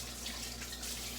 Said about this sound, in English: And I am going to add water.